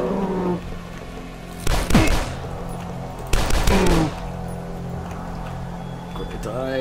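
Enemy gunfire in the first-person shooter Dusk: two loud bursts of rapid shots, each about half a second to a second long, separated by a quiet stretch, with a low background hum between them.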